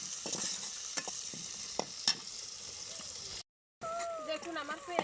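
Onions, green chilies and garlic frying in a pan in a rural home kitchen, a steady close sizzle with stirring scrapes throughout and a brief dropout partway.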